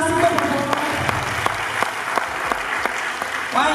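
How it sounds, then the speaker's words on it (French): An audience at a stage event in Palimé claps steadily throughout. The applause is loud and continuous, with a few sharper claps standing out as evenly spaced accents, and a faint voice can be heard underneath. "on applaudit encore, s'il vous plaît"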